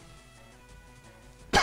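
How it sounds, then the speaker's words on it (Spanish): A single loud cough bursts out at the very end, following a stretch of quiet game background with soft tonal hum. "¡Ay, que me da la tos!"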